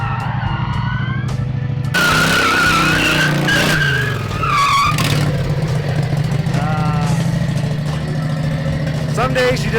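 A revived golf cart with a Harbor Freight Predator V-twin engine doing burnouts in a yard, loud continuous engine roar with squealing tire skids rising and falling, close up, with people talking over it.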